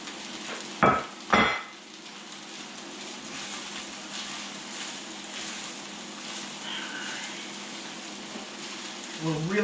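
Flaked salmon and rice for salmon fried rice heat in a pan with a steady, close sizzle; two sharp utensil clatters come early, then the frying hiss runs on.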